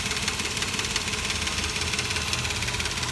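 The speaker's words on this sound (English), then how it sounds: "Running motor, does need timing kit." A 2005 Nissan Quest engine due for a timing kit runs at a steady idle, close and continuous, with a fine rapid ticking texture over a low hum.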